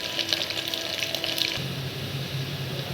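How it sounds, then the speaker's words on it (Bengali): Rice being poured into a pot of browned onions with cinnamon and cardamom for Bangladeshi polao, a steady rushing, grainy pour that gives way midway to a low rumbling sizzle as the grains hit the hot oil; no talking. "পেঁয়াজ বাদামি কালার ধারণ করছে, এবার চাউল দিয়ে দিই।"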